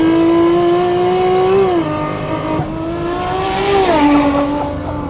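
A Nissan Skyline GT-R with an automatic gearbox accelerates hard at full throttle. The engine note climbs steadily, drops briefly at two smooth upshifts, then keeps rising, loud and close with no talking.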